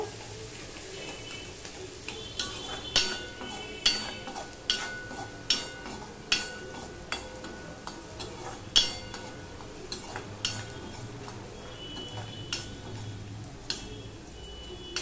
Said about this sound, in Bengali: আদা রসুনটা আমি পুরোপুরি লাল করব না, অল্প অল্প করে ভেজে নেব।